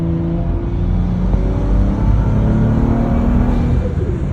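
A BMW N55 sleeper car engine under hard acceleration in fifth gear with turbo anti-lag, a loud, continuous close-up rumble and whir from inside the car.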